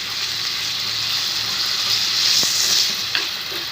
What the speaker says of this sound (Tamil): உப்பு போட்டுட்டு நல்லா பெரட்டி விட்டுட்டே இருக்கணும்.